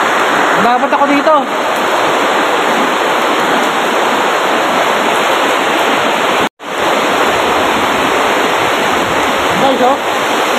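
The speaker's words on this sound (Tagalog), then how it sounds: "Sobrang lakas ng ulan." Heavy rain pouring hard in Jeddah, a dense continuous roar of water with a brief dropout midway and faint voices in the background.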